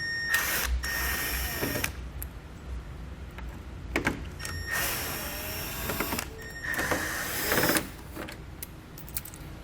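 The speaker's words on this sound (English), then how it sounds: "We're going to grab a T15 Torx bit and we're going to pull all 6 of these screws out." Short bursts of a power driver whir close by as a T15 Torx bit backs out grille screws beside the hood latch on a 2020 Chevrolet Equinox, separated by quiet pauses and faint clatter.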